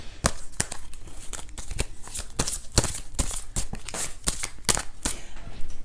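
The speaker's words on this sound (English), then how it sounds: "So I'm going to pull a couple other cards." Tarot cards are shuffled and drawn by hand, making a quick run of crisp papery riffles, flicks and snaps up close, irregular and fairly loud, with no talking.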